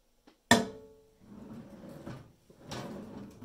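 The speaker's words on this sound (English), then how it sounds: "Can't even open the drawer with this." A drawer held by a strong magnet from a Harbor Freight Braun magnetic slim bar folding work light is tugged, giving one sharp clack followed by quieter rattling and scraping as it is pulled again, with no speech.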